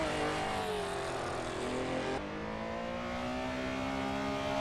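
A Porsche 911 Carrera RSR 3.0 race car engine in the racing game Assetto Corsa drones at high revs without a break, with a gear change midway and the pitch climbing again, loud and close with no talking.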